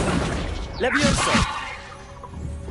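A Levioso levitation spell cast in Hogwarts Legacy, heard as a single swooshing, shimmering burst with a brief crackling impact that rises and fades within about a second, over a low ambient game background.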